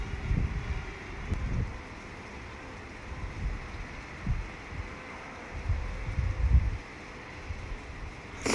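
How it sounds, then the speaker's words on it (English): Strong wind buffets a drone climbing over Grand Mesa shortly before sunrise, a steady low roar with gusty swells that rise and fall throughout, loud and close with no voices. "Strong wind."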